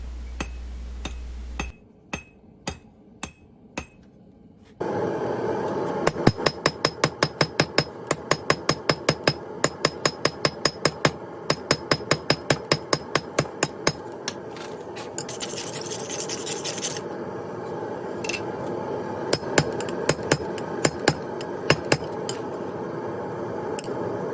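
A hammer forges steel round stock on an anvil for a wall hook, ringing in long runs of rapid, evenly spaced metallic blows, loud and close, with brief pauses between sets and a scraping hiss partway through.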